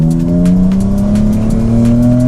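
BMW E46 drift car sliding on a hydraulic handbrake, a loud steady engine drone with strong harmonic tones and rapid repeated tire chirps through a long slide, close and continuous.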